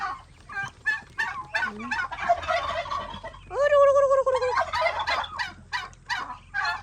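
Turkeys gobble repeatedly in rapid, bubbling bursts, with one louder drawn-out call in the middle; several birds sound close together.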